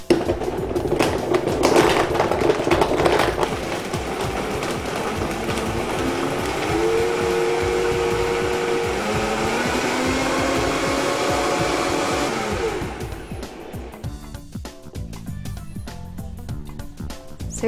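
A kitchen blender whizzes a smoothie with ice, its motor roaring loudly and shifting in pitch as the contents churn for about twelve seconds before winding down to quieter background noise.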